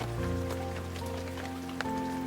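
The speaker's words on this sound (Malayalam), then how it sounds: "മഴയുടെ രൗദ്രതാളം നിറഞ്ഞു നിൽക്കുന്ന നേരത്താണ് കൂട്ടുപുഴയിലെത്തിയത്" Heavy rain pours down at Koottupuzha, a steady, soft hiss that runs through the whole clip, with a faint tonal hum lying underneath.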